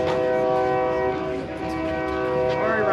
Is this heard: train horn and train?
yes